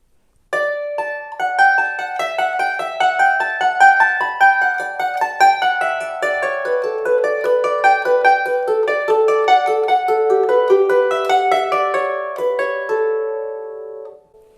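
A harp plays a steady, repetitive right-hand run from the Carolan concerto, bright plucked notes in the upper register, clear and close, with no voices.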